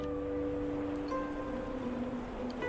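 Steady rain ambience in a visual novel video game, a continuous even hiss of falling rain with soft faint tonal music lines running beneath it, with no voices.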